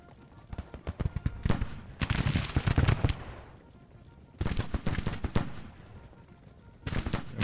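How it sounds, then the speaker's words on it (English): Infantry volley gunfire in the Civil War strategy game Grand Tactician, heard as several loud bursts of ragged, overlapping rifle shots separated by short lulls, with no voices over it. "I got like a volley on them and they instantly start falling back"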